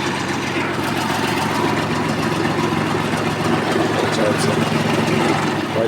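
A Mitsubishi MT205 Japanese mini tractor engine runs steadily throughout, a continuous close mechanical drone with a slight rise in revs toward the end, under no speech.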